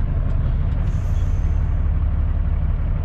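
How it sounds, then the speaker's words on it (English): Truck trailer air brakes release a hissing burst of air lasting under a second over the constant low rumble of an idling truck engine. "Trailer brakes release."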